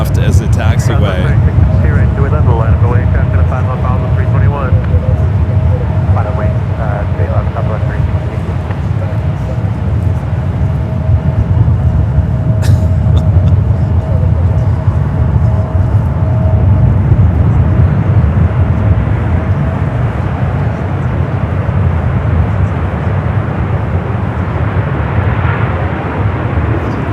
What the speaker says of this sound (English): A380 Super going to be utilizing one left as a taxiway